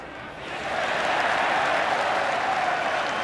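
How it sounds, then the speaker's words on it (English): A big rugby crowd at Eden Park in Auckland, at the 1993 All Blacks versus British and Irish Lions test, swells into loud sustained cheering and applause that holds steady. "This crowd is almost in a state of hysteria at the moment."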